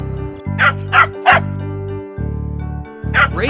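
Jack, a pet dog in an animated children's story, gives a run of sharp barks and yips over a steady low cartoon music bed, four close barks in quick succession and then one more after a pause.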